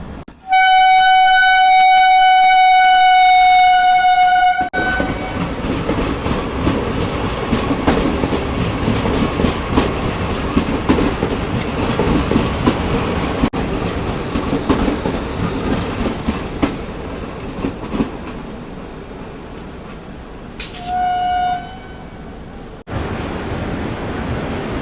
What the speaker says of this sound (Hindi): ये आ गई वंदे भारत एक्सप्रेस ओवरटेक मारने तेजस राजधानी